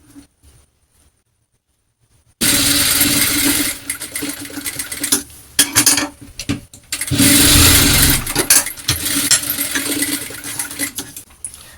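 After a quiet start, a sewing machine runs loud and close as it stitches the shoulder seam of a frock nighty. It whirs in long continuous bursts with a few short pauses between runs.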